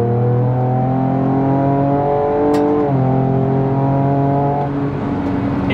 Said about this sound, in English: Can't get over the exhaust, it's so sick.